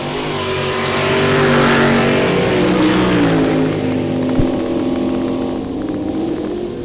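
Drag racing cars launch and roar down a dragway during sportsman foot brake eliminations, a loud sustained engine howl that rises and then shifts pitch as the cars pull away, heard from trackside.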